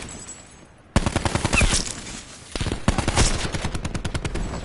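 Video game gunfire comes in rapid automatic bursts, a short one followed by two longer rattling volleys, loud and close.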